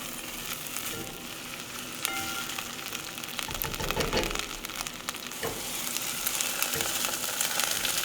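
Diced vegetables sauté in a hot pan, giving a steady close sizzle with scattered pops and a few scrapes of stirring throughout, no talking.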